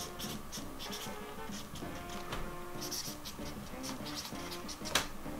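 A pen scratches out a handwritten message on paper, a soft continuous patter of short strokes and taps, close and quiet over low background noise.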